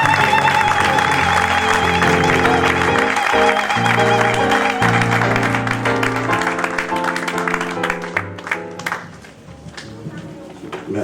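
Applause from a church seminar audience as an apostle is called to the stage, a dense, steady wash of clapping under loud music with sustained organ-like chords, fading slightly toward the end.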